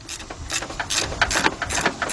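Rapid, uneven clicking of a 3/8-drive ratchet with a 15 mm socket loosening a bolt on a 2007 Chevy Impala during a thermostat job, close and fairly loud, coming in short bursts.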